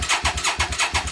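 A Hyosung GT650R motorcycle engine cranks on the starter without catching, giving a loud, close, rhythmic churning of about five even pulses.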